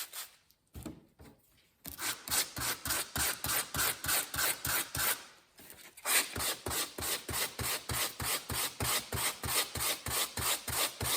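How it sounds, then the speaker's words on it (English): A knife blade is stroked over 200 grit sandpaper in steady, rhythmic rasping passes, loud and close, with a short pause partway through before the regular back-and-forth strokes resume. "The sandpaper will do the rest of the work."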